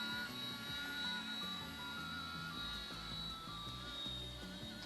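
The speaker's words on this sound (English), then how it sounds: "he flew what appeared to be radio-controlled helicopters." A small radio-controlled helicopter flies nearby, its high, steady rotor and motor whine holding a constant pitch with a faint rhythmic flutter, fairly quiet and alone.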